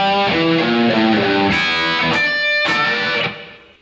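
Distorted electric guitar plays the last two bars of a song's riff. It opens with quick single-note lines, then hits sustained crunchy chord stabs that ring out and fade, loud and near, with no talking.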